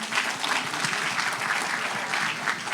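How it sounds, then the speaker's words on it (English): Steady, dense audience applause fills a scholarship program ceremony, a close, even wash of many hands clapping without a break. "please have a round of applause for everyone"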